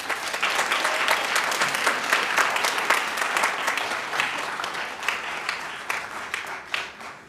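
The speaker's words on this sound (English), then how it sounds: "But a big round of applause for them." An audience bursts into sustained, dense applause at a gathering, many hands clapping together loudly for several seconds before gradually thinning out, with no speech over it.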